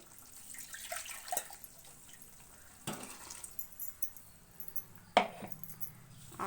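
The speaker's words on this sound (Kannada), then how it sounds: "ಮಿಕ್ಸಿ ಜಾರ್ ಮಸಾಲೆ ಇರುತ್ತಲ್ಲ ಅದನ್ನು ತೊಳೆದ್ಬಿಟ್ಟು ಹಾಕ್ತಾಯಿದ್ದೀನಿ ನೋಡಿ" Water rinses out a mixer jar that held ground masala, producing a low running trickle with splashes and a few clinks of the jar, fairly quiet and close.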